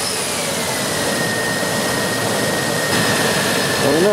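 A 2001 Infiniti QX4 3.5L engine running close by with a steady loud roar and a thin whining squeal from the serpentine belt, with a faint chirp near the end.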